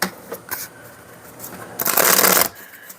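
A deck of tarot-style reading cards is shuffled by hand, soft riffling flicks and taps building to one dense, crisp burst of rapid card shuffling, close and clear.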